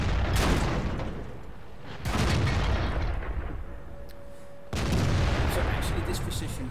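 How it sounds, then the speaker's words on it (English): Tank cannon fire in World of Tanks, aimed through the turret of a KV-4: two heavy booming shots, about two and a half seconds apart, each followed by a long rumbling tail over steady battle noise. "I'm shooting straight through the turret of the KV-4."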